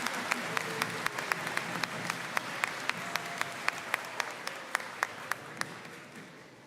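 A school awards-day audience claps for the winners, a full, even wash of applause with a few crisp claps close to the microphone, tapering slightly toward the end.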